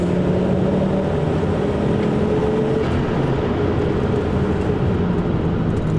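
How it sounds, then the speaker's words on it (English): A Volvo 850 Turbo's five-cylinder engine drones steadily and loudly up close, a continuous low rumble with an even tone and no voices. "that old school Volvo 5-cylinder engine sound, there is just nothing like it"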